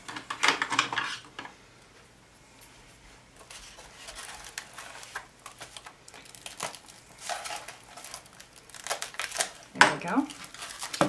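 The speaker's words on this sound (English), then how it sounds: "I'm going to kind of grab something to take that foil out of it." Foil being pulled out of a hot CD candle holder gives bursts of crinkling and rustling with light clinks of a metal tool, heard under a person speaking nearby.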